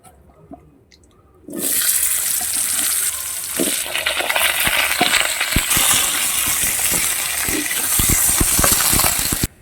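Black cumin seeds and bay leaf hit hot oil after a quiet start, bursting into loud, continuous sizzling scattered with sharp pops and crackles, without any talking.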